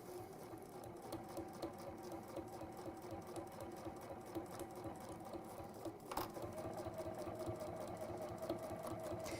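A sewing machine stitches fabric in a fast, steady mechanical patter, close and continuous for several seconds with a short knock partway through.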